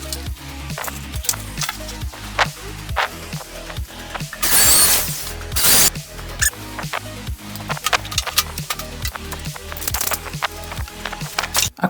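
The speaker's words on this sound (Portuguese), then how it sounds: "Vou parafusar e testar para ver o que vai acontecer" Power drill driving screws into wood, the motor whirring in a steady run of short bursts with one louder, sustained stretch of grinding midway.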